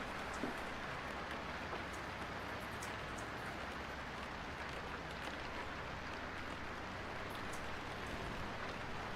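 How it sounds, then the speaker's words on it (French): Simulated rain patters on a windshield in a driving simulator, a faint, even hiss of drops that continues steadily throughout without voices. "on a à la fois la pluie qui tombe sur le pare-brise"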